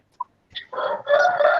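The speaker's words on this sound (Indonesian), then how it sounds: "itu ayam punya siapa?" A rooster crows nearby after a single sharp chirp, a loud, drawn-out cock-a-doodle call heard clearly on its own with no talk.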